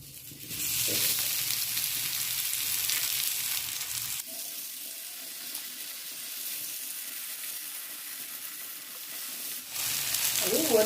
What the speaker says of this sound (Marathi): आता आपल्या आळूच्या वड्या आपण तव्यावरती भाजण्यासाठी ठेवणार आहोत